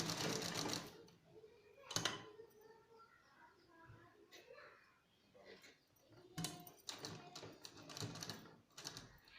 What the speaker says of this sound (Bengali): এই অবধি সেলাই নিয়ে আসবো।